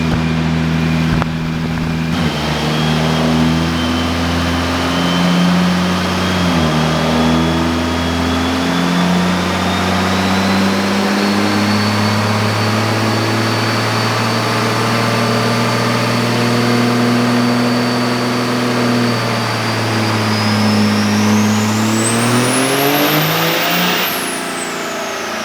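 A Cummins diesel truck engine on a dyno drones steadily at 60% load in fifth gear, its loud, even hum rising gradually in pitch with a climbing whine near the end.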